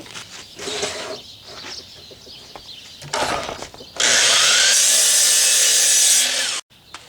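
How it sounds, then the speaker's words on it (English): Power drill driving screws into wood while building a table saw crosscut sled, with short bursts of work noise and handling before one loud sustained whine of the drill spinning for a couple of seconds, then stopping abruptly. "I'm going to screw this way, probably with 2-inch screws, and then come up this way with 3/4 inch screws"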